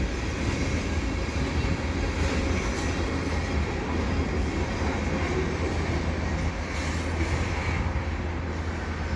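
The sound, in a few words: freight train passing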